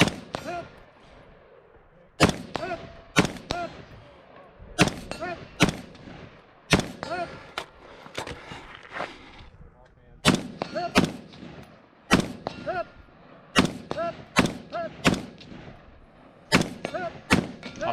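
Gunfire at a multi-gun shooting match at West End Gun Club, sharp close rifle shots fired in quick pairs and clusters with short pauses between groups, each crack ringing out over quiet background.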